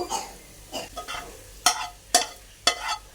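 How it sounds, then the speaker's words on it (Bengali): Onion lightly frying in a pan, a soft sizzle under repeated scraping stirs of a spatula, several distinct strokes at irregular intervals, close by. "এইভাবে একটু হালকা ভেজে নিলে পেঁয়াজটা নরম হবে"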